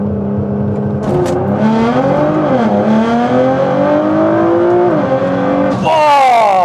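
A Nissan GT-R accelerates hard on a launch run, its engine note climbing steadily through gears with brief dips at each shift, loud and close, ending in a sharp high rev.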